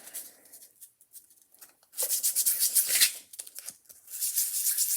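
Abrasive back-and-forth rubbing while sanding a gear train bearing part of a Columbia cabinet phonograph, close and fairly loud in two bursts separated by a short pause, with quieter scraping before.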